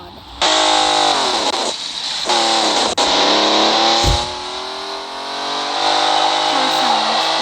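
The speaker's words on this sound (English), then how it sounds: "Car sounds." A car engine in a racing video game revs and whines loudly and continuously, its pitch rising and falling over about seven seconds, with a short thump partway through.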